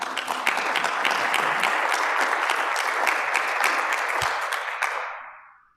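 A room full of people applauds steadily and loudly, the clapping holding for several seconds before fading out.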